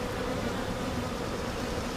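Dense, steady buzzing of many honeybees close by, hitting a beekeeper's veil during a hive inspection, a continuous droning swarm with no voices.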